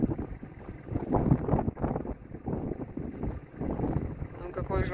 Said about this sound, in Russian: вам, наверное, в камеру слышно, как ветер завывает